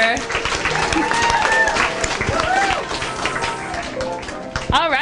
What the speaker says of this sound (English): let's give a round of applause for our score talliers